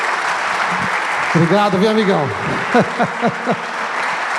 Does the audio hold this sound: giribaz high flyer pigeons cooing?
no